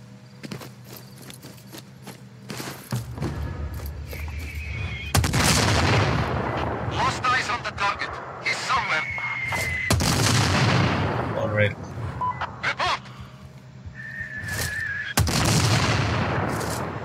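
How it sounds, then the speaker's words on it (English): Mortar fire in the Sniper Ghost Warrior 3 video game: several heavy booming impacts land in bursts across the scene, loud and broad, separated by quieter stretches with faint tonal effects and a voice talking underneath. "Mortar fire incoming! They are activating mortars"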